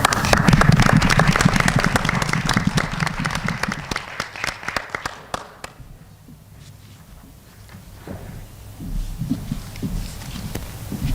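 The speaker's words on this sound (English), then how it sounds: "We'll do one last round of applause." A closing round of applause fills a board of education meeting room, loud at first and thinning to scattered individual claps before tapering off, with a few faint sounds of people shifting afterward.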